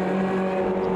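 A Renault race car engine in the video game Automobilista 2 at Oschersleben holds a loud, steady, buzzing drone with strong tonal harmonics.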